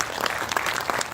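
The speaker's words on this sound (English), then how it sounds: "Big round of applause" Audience applause at an oral health innovation conclave, a dense, steady wash of many hands clapping at close range, continuing without a break across the full stretch.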